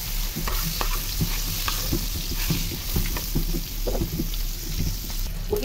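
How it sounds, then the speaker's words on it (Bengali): Pieces of marinated Sonali chicken sizzle loudly in a pan in a home kitchen while being turned and stirred, with a spatula scraping and clattering in an irregular rhythm over the continuous close frying hiss. "কেমন ভাজা হচ্ছে"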